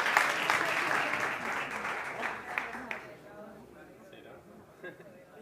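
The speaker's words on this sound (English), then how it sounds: "please welcome, with a big round of applause to the stage, contestant number 1, Be Helpy" An audience at a startup competition stage applauds a contestant, loud clapping at first that fades away over a few seconds, leaving a quiet room with faint stray sounds.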